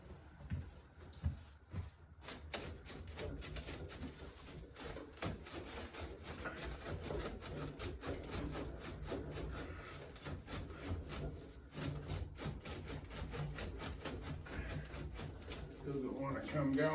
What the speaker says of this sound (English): Let's see if I can pull the pipe out of there.